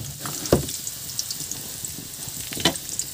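Onion sautés in a pan with a continuous soft sizzle, broken by two louder stirring scrapes near the start and end, with no voices.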